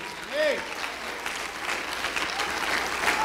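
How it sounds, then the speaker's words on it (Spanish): A church congregation breaks into loud, sustained applause, steady and close, with a voice rising briefly over the clapping at the start. "dar un fuerte aplauso al Señor Jesús"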